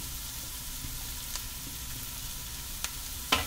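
Grated carrot and other vegetables sautéing in a pan, giving a soft, steady sizzle with a few brief clinks of a utensil stirring, close and fairly quiet with no talking.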